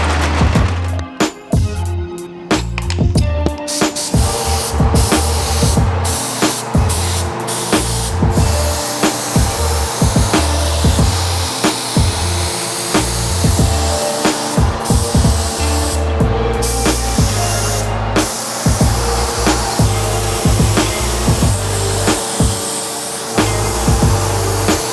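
A spray gun paints parts from an abandoned Honda Civic Si under restoration, giving a loud, sustained hissing spray broken by short pauses between passes.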